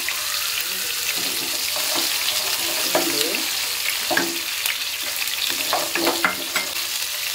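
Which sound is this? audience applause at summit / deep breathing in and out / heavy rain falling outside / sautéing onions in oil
sautéing onions in oil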